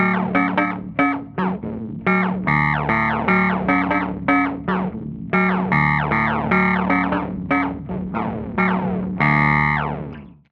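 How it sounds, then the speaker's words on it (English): A Sparks analog harmonic processor runs its LFO at audio rate, turning guitar notes into a steady stream of choppy, buzzing, distorted chords that stop abruptly at the end. "If you want to get weird, you can play with audio rate LFO speeds"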